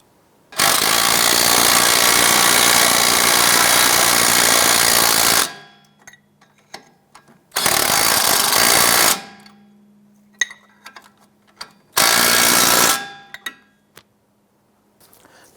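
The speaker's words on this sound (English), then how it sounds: "go ahead and install the nuts on the strut bolts. And go ahead and snug those down." A power tool drives the nuts onto the strut bolts of a Ford Escape strut assembly. Three loud mechanical bursts come close by, the first running about five seconds and the others shorter, separated by quiet gaps with faint clicks.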